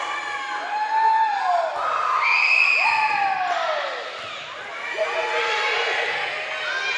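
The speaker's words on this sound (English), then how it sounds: "As the East Carter fans cheering, the East Carter bench tells them to be quiet" Fans of East Carter cheer and shout in a gym at a high school volleyball district final, with a loud, swelling crowd roar and whoops that rise and fall over several seconds.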